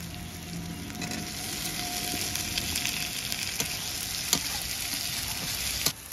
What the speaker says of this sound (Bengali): এবার এঁচড় দিয়ে ভালো করে কষাবো